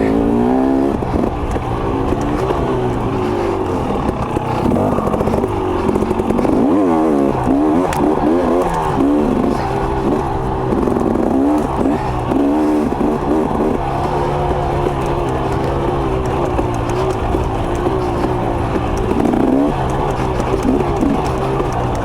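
A 2023 KTM 300 XC-W TPI two-stroke dirt bike engine runs steadily throughout while being ridden on a trail, holding a loud, continuous buzzing drone with rising and falling revs and some clatter.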